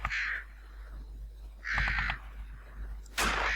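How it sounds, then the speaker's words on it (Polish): A raven in a video game, a Polish-dubbed World War II Wolf's Lair shooter, caws three times, rough harsh calls spaced about a second and a half apart, loud and near over a low game hum, with no talking. "Polowanie na kruka"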